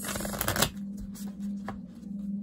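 Tarot cards being shuffled nearby, a quick riffling burst followed by softer flicks and taps.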